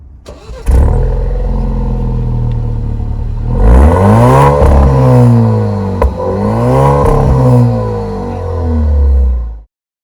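An Alfa Romeo Stelvio engine catches, then its real exhaust barks through two loud revs that climb and fall away before the motor shuts off.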